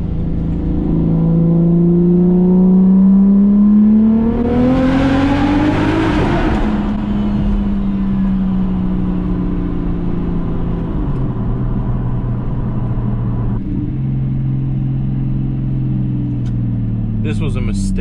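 A bagged Mercedes C63 AMG V8 roars loudly while driving, climbing through a hard rev and shifting gears before settling into a steady cruising drone, with an echo as it passes under an underpass and people talking over it.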